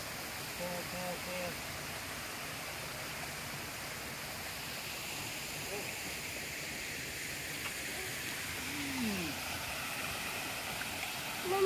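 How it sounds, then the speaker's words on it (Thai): A waterfall and flowing stream at The Blooms Orchid Park give a steady, even rushing wash throughout, with faint voices and a few brief sounds over it near the end. "น้ำตกสวยไหมลูก"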